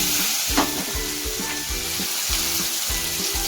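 Mustard paste hits a hot pan for a Bengali pointed-gourd dish and sizzles loudly and steadily, with a few stirring scrapes and low, rhythmic rumbling underneath.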